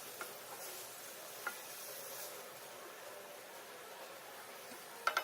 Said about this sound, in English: we're going to fry the mince for at least 1 whole minute